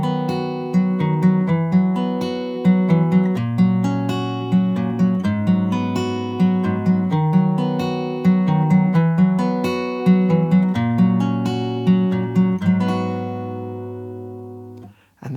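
A solo acoustic guitar plays the gentle closing passage of a song, strummed and picked chords slowing down and ringing out on a final chord before stopping.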